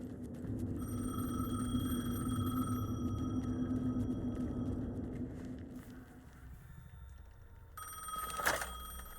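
A telephone rings in the video game Alan Wake 2, a steady repeating electronic tone over a low droning ambience, ending in a louder burst near the close.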